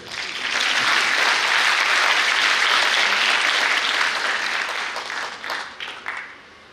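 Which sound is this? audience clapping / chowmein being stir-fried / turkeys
audience clapping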